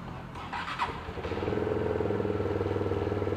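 A Rusi Flash GP150i scooter engine catches after a brief starter whine and clatter, then settles into a loud, steady close-up idle with an even pulsing beat.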